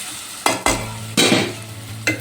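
Jaggery melting and roasting in ghee in a kadhai, heard as a few sharp stirring scrapes and clatters over a low, steady frying sizzle, close up with no voices.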